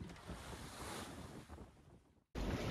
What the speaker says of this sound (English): you can see the waves crashing. It's a big swell.